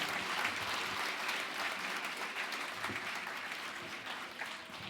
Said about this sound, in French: On applaudit encore une fois l'agence de Bretigny